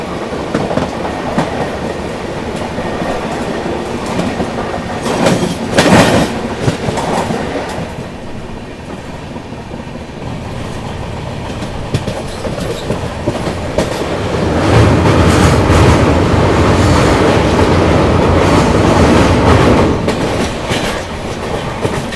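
The Sealdah Ballia Express passes close by on an Indian railway line, a loud continuous roar of rolling coaches with rhythmic clickety-clack of wheels over rail joints, surging louder toward the end.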